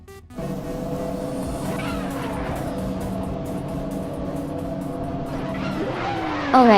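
Race cars roar around the Autodromo Lago Maggiore East track in a video game race, engines droning steadily with rising pitch sweeps and a sharp squeal near the end.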